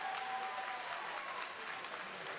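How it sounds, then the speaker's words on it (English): A crowd at the Launceston Christmas Carnival foot race roars and claps in a sustained, fairly even wash of cheering and applause heard from a distance. "He'd be inspired by that roar from the crowd."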